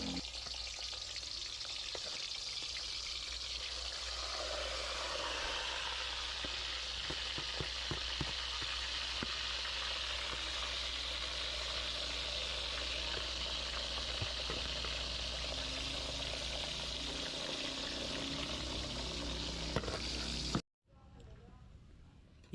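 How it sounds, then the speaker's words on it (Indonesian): Snakehead fish fry in hot oil in a wok over a wood fire, a steady close sizzle with occasional crackles and pops. The sizzling cuts off abruptly to near silence just before the end. "baru saya masukkan ikan gabus ini untuk digoreng ke dalam wajan."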